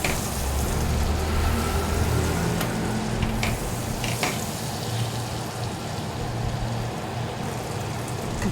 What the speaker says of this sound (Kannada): ನಾನು ಇವಾಗ ಇದಕ್ಕೆ ಪನ್ನೀರ್ ಹಾಕೊಂಡು ಫ್ರೈ ಮಾಡ್ಕೊತೀನಿ ಎರಡು ಕಡೆ ಚೆನ್ನಾಗಿ ಫ್ರೈ ಮಾಡ್ಕೊಳ್ಳೋಣ ಪನ್ನೀರ್ನ